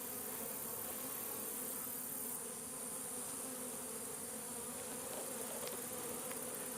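Honey bees drone in a dense, continuous buzz throughout an open hive inspection, close and steady with no voices.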